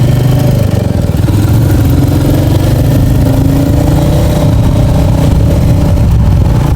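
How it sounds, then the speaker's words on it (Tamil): A Royal Enfield Meteor 350 motorcycle rides at about 80 with a loud, close, steady engine drone and wind rush, holding an even thrum throughout without a clear slowdown. "இப்போ நான் ஒரு 80ல் வரேன். இப்போ சடனாக பிரேக் அடிக்கிறேன்."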